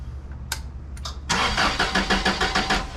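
A 2010 Toyota propane forklift engine cranks with a couple of brief bursts, then catches and settles into a loud, steady running rumble with rhythmic pulses, close by and with no talking.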